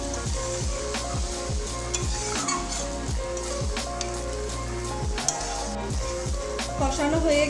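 Chickpea curry masala being sautéed in a pan, a steady crackling sizzle with repeated rhythmic scrapes of a spoon stirring against the pan, close and loud, no talking.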